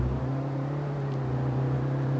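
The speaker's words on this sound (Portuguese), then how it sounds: "Barulho atrás, galera, o carro." A car approaches from behind in the video game H1Z1, a steady low engine drone that holds throughout at moderate loudness, with no talk.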